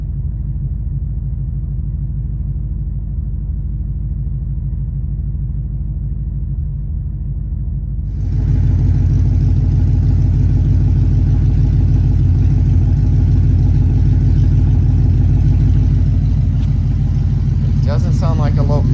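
A car engine idles steadily after a Boss Racing cam install, a low continuous rumble that grows louder and fuller partway through, with a brief higher rattle near the end.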